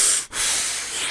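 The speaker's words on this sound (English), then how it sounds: "Will you keep that breathing and coughing down, please?" A breath of air rushes close against a microphone, a broad hiss with a brief pause partway through, then steady breathing noise again.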